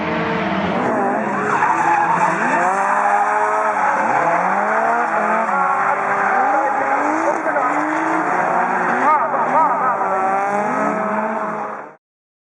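A drifting car's tires squeal and skid continuously for about twelve seconds, the pitch sliding up and down with engine roar beneath, before cutting off abruptly.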